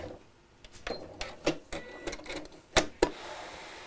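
A domestic sewing machine with a denim needle sews a short back tack, a faint run of uneven mechanical clicks and taps ending in two sharper knocks.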